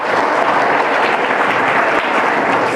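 Audience applause in a lecture hall, a dense, steady patter of many hands clapping throughout, loud and close, with no talking over it.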